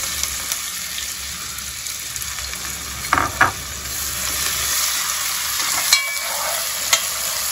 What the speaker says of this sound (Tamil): கடுகு நல்லா பொரிஞ்சிருச்சு. நம்ம அரிஞ்சு வச்ச வெங்காயம் கருவேப்பிலை.